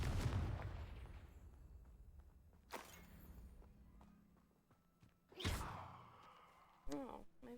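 Confringo fire spell blasts in a Harry Potter video game: a sharp burst near three seconds and a bigger whooshing blast past five seconds, then another hit near the end, over a low rumbling game backdrop.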